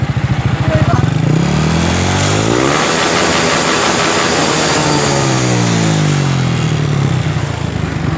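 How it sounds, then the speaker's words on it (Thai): A Honda Wave motorcycle exhaust revs loudly and up close, its engine pitch sweeping up and down across repeated throttle blips over a steady idle. "คราวนี้เรามาฟังรอบตักกันครับ"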